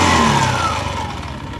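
A Honda Beat FI scooter engine revs up loudly and close, its whine climbing then easing off briefly; the rear wheel won't turn under throttle despite an unbroken drive belt.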